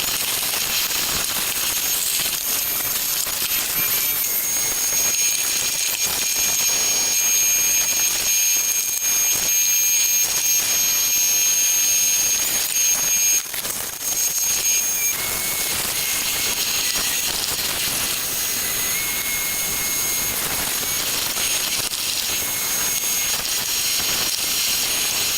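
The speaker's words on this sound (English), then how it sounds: "get a sweeper hooked up and get all this stuff swept out of there." Shop vacuum sweeper cleaning out the rain tray of a VW Rabbit MK1 Caddy truck, a steady loud hiss and rushing airflow with brief whistling tones, running continuously.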